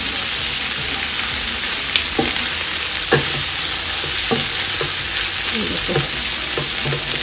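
Goat stomach and liver fry with tomatoes in a pan under a loud, steady sizzle. Occasional stirring knocks and scrapes sound up close throughout.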